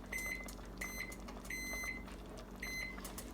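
Kitchen timer beeping repeatedly in short bursts of two or three tones while pasta for fettuccine Alfredo cooks, set against a steady low hum of kitchen background noise.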